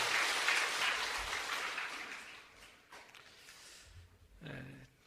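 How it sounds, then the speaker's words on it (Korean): Congregation applause at a Wednesday evening service in a Korean church hall, dense and broad at first, then gradually thinning and fading toward the end. "이 모든 영광 하나님 앞에 다시 한번 감사의 영광의 박수 돌립니다."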